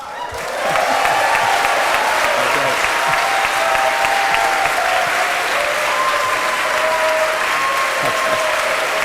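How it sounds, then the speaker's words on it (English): Steady, loud applause from a debate audience for the panelists at a Seattle rent-control forum. The sustained clapping has a few voices rising faintly above it. "let's hear the same applause for all of our panelists"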